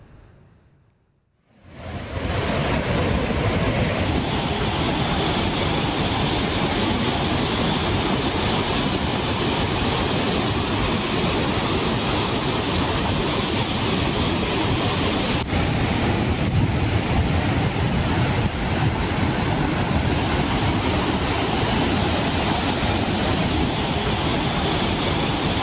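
Old Courtallam waterfall in flood roars as a dense, continuous wash of rushing water. It starts after a brief quieter moment and then stays loud and unbroken throughout, with no voices.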